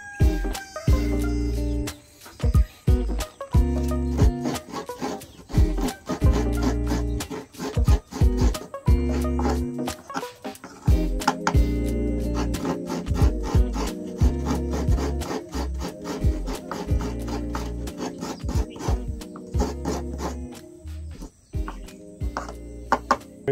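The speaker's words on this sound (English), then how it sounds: "I'm gonna grab the kāngoa and then we'll start scraping the coconuts." Coconuts are scraped by hand on a kāngoa coconut scraper while cooking in Samoa, producing a steady rhythmic rasping and rubbing that repeats quickly and continues close up for the whole stretch.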